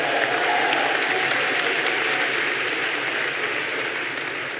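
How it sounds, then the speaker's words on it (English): A crowd of about 4,000 people at a rally applauds continuously, a loud dense wash of clapping that holds steady and fades only slightly toward the end. "Give yourselves a round of applause."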